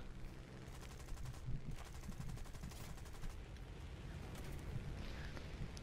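Bursts of .30 cal machine gun fire from a British plane in the video game War Thunder chatter in short rapid strings, fairly faint against a continuous engine drone.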